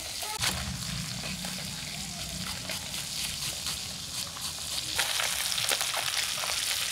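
Small puti fish frying in hot oil in a wok, giving a continuous dense sizzle with light clinks and sloshing from handling, heard close and fairly loud throughout.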